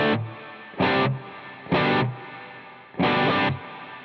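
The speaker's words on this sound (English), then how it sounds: "this is like a bloom verb" Electric guitar played with a bloom reverb effect: four chords strummed in a slow rhythm, each loud and close, with a swelling, washy tail ringing out between strums.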